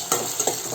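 A spoon stirs baby corn Manchurian with spices in a hot pan, making a few quick scraping strokes over a soft, continuous sizzle, close and clear with no talking.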